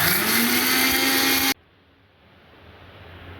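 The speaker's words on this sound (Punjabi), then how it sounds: "ਲਓ ਜੀ ਹੁਣ ਆਪਾਂ ਮਿਕਸੀ ਚਲਾਵਾਂਗੇ" A mixer grinder whirs loudly, grinding cooled roasted spices for homemade lemon pickle, then cuts off abruptly about halfway through, leaving quiet room tone.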